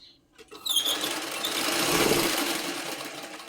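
Sewing machine running a double line of stitching over a saree's picot edge, a steady mechanical whir starting after a brief quiet and holding close and continuous.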